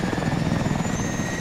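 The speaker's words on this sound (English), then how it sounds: "कितने सारा है भाई helicopters, choppers" Military helicopters thrum steadily in the shooter game Call of Duty: Advanced Warfare, a dense, continuous rotor chop with an engine whine, loud and unbroken.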